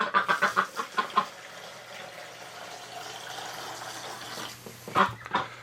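Pet ducks kept indoors on a winter morning give a run of quick, loud clucking quacks at the start, then a quieter stretch of soft background noise, before a few more sharp calls near the end.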